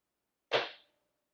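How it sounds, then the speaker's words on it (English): One sharp, solid click as the feed dog switch on a Brother CE1125PRW sewing machine is pushed to the left, close and isolated, quickly decaying into silence. "when you put the switch to the left, you're gonna hear that big click"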